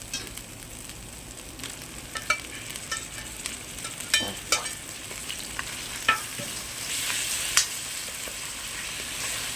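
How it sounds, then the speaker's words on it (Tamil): Tomato added to ginger and garlic frying in a pan for chicken sukka, a quiet steady sizzle with scattered sharp ticks and scrapes of stirring, close by, hiss swelling slightly toward the end. "தக்காளி போட்டாச்சு போட்டு நல்லா வணக்கிக்கலாம்"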